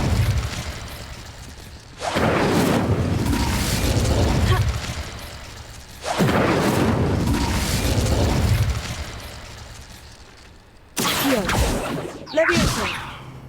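Incendio fire spell being cast in the video game Hogwarts Legacy: two long, roaring whooshes of flame, each lasting a few seconds, followed by sharp magical bursts near the end.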